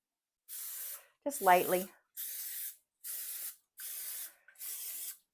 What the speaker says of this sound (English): we're just going to spray the tops of these a little bit with the cooking spray